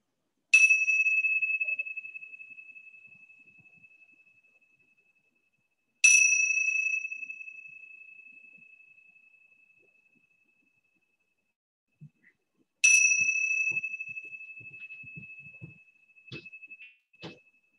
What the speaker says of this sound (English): I'm going to play these chimes 3 times